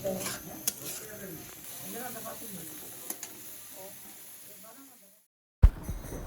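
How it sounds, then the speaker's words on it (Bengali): Turmeric and chili powder fry in a pan while being stirred, giving a steady close sizzle with scraping strokes and a few clicks, before a brief silence and a sharp knock. "হলুদ মরিচ দেওয়ার পরে এর মধ্যে একটু নাড়াচাড়া দিব তারপর বাদামটা দিয়ে দেবো"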